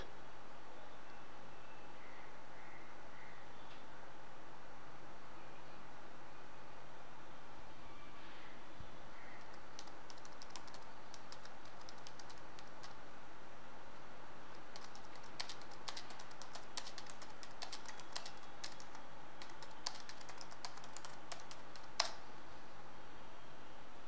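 Someone types on a computer keyboard while composing an email, starting with a few faint scattered taps and building into quick, busy runs of light clicking near the end, with no voices.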